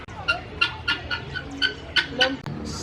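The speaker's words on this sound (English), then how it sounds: "Some helmeted guinea fowl." Helmeted guinea fowl at a zoo give a run of repeated harsh, rhythmic cackling calls at moderate distance, with faint background noise and some talking.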